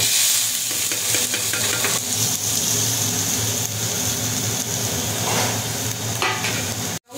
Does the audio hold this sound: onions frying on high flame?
yes